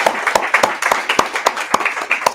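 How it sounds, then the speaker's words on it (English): Audience applause closing a book talk, a short burst of scattered, fairly sparse hand claps from a small crowd, distinct individual claps standing out in an uneven rhythm. "let's give Chris a round of applause"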